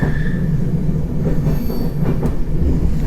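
A steady, close rumble of Polish intercity train wheels on rails, with a thin metallic squeal rising above it as the carriage rounds a bend.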